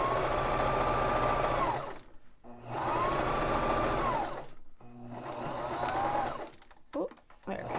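A Baby Lock Zest sewing machine stitching shirt fabric in three fast whirring bursts separated by short pauses, close and steady while running, with a voice audible during the gaps.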